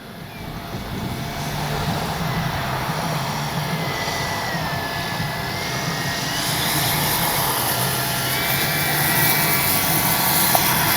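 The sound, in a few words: model airplane flying overhead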